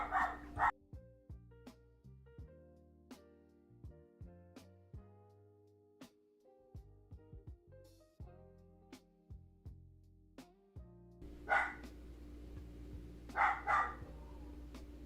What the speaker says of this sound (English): I'm finna yell at my dog if she don't stop